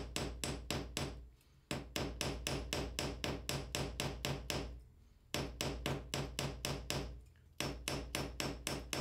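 Rapid, sharp metallic hammer taps on copper sheet ring out in quick bursts, with brief pauses between runs, close and clear with no talking.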